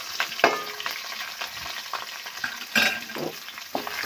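Onion and green chillies fry in hot oil with whole spices for an egg biryani, giving a continuous close crackling sizzle with occasional stirring scrapes and no voices.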